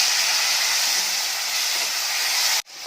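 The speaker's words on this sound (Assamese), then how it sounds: "এতিয়া মই লাওখিনি অলপমান ভাজিছোঁ" Bottle gourd frying in hot oil makes a loud, steady sizzling hiss up close, broken by a brief dropout near the end.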